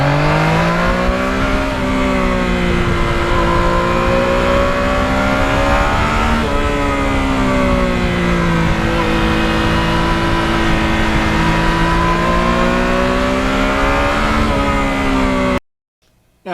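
A 2020 Yamaha MT-09 motorcycle engine revs loudly and steadily close by, its pitch rising and falling in smooth waves for about fifteen seconds before cutting off abruptly into silence.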